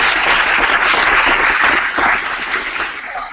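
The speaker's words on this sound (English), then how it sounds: "So let's give Mills a round of applause for hosting." A crowd applauds steadily to thank Mills for hosting a September 2014 meetup, dense clapping holding loud throughout before easing slightly near the end.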